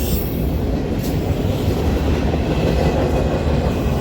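A Burlington Northern freight train rolls past at Ashland, Nebraska, giving a loud continuous roar of wheels on rail with faint clatter and a brief high squeal, close by and without talk.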